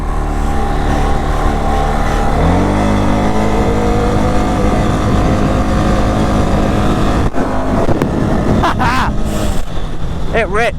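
A 2023 CFMOTO CFORCE 625 ATV engine runs loud and close, rising and falling as it revs. Someone talks over it and wind buffets the microphone.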